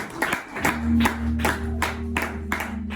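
Congregation at a church service clapping in a steady rhythm, with sustained organ or keyboard tones and acclaiming voices underneath.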